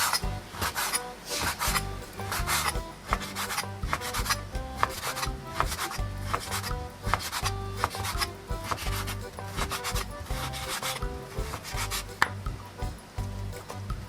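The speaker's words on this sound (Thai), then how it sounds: "ทีนี้เราจะหั่นกันนะคะ ให้บางๆหน่อยนะ" Thin slices are cut from pork belly with a knife on a wooden board, making rapid, rhythmic close-up strokes that scrape and tap steadily throughout with no speech.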